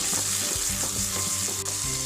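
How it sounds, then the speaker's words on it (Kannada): Two whole medium tomatoes fry in a pan with ginger-garlic paste, giving a loud, close, continuous sizzle with soft stirring scrapes and no talk. "ಇದು ಸ್ವಲ್ಪ ಚೆನ್ನಾಗಿ ಮೆತ್ತಗೆ ಆಗೋ ತನಕ ಸ್ವಲ್ಪ ಫ್ರೈ ಆಗಲಿಕ್ಕೆ ಬಿಡ್ತೀನಿ"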